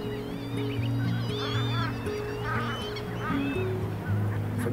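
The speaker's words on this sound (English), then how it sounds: "We welcome hundreds of thousands of wetland birds to our shores every year." Wetland birds gather on a British shore in winter, many overlapping goose-like honks and calls rising from a flock at moderate distance over a low, steady drone.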